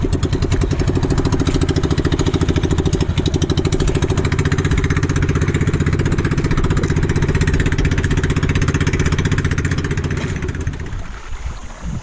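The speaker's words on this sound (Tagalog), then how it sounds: "Mahirap, maliit lang ang bangka ni Tribogino." A small fishing boat's engine chugs steadily with a fast, even putter near an island, loud and close, before easing off and fading slightly at the end.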